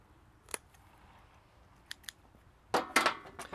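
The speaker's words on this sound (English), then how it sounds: "We're going to cut it off." Cutters snip through a Korean fir bonsai branch during pruning, giving a few crisp, close clicks: one early snap, two light ticks, then a louder cluster of sharp cuts near the end in a quiet room.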